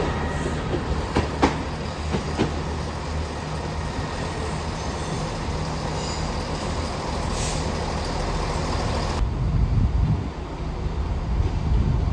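A train heading in from Stourbridge Junction rolls into a station with a steady low rumble and mechanical rattling, brief clanks and a hiss near the end as it slows, no voices.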